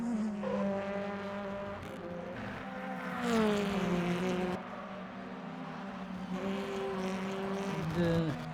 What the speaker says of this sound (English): Let's get some sound on for you guys to hear those beautiful little engines.